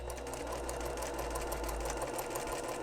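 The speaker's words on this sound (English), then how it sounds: "I'm just going to sew this with a 1/4 inch seam." Sewing machine running steadily as it stitches bias binding onto a dress sleeve opening with a quarter-inch seam, a close, continuous motor whir with rapid needle clatter, loud and alone.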